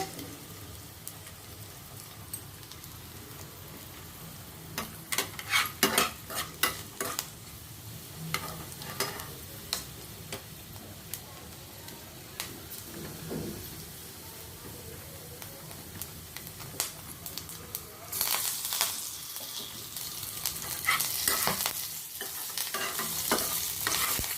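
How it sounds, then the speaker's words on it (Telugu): A pan of spices frying with a piece of asafoetida, stirred steadily: a soft, continuous sizzle with clusters of scraping and clinking from the spoon, building to brighter hissing near the end, no talking. "వేయించుకుంటున్నాను. ఇంగు ముక్క కూడా వేస్తాను."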